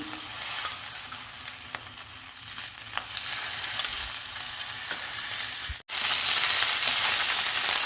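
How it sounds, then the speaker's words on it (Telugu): Green chilies and tomatoes fry in oil in a kalai pan, a steady close broadband sizzle with occasional stirring clicks, briefly cut by a dropout near the end before the crackle resumes. "పచ్చిమిర్చిని, టమాటాని వేయించుకుందాము"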